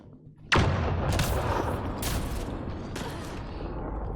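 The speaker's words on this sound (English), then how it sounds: "the blast brought the wall down" An explosive charge blasts through an ice wall in the game Mass Effect: Andromeda: one sudden loud boom, followed by a long rumbling roar of collapsing debris with several crackling surges.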